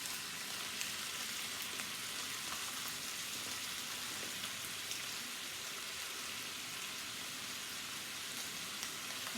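Chicken skewers fry in a pan with a quiet, steady sizzle, a soft, rain-like hiss with scattered tiny pops that holds at an even level throughout and has no speech over it.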